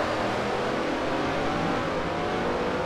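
Race car engines roar continuously in Forza Motorsport 4, a dense, loud, steady drone of accelerating cars with no pauses or talk.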